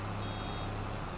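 A vehicle's reversing alarm beeps steadily in the farming video game Farming Simulator 22, a continuous electronic tone over an engine drone for just over a second.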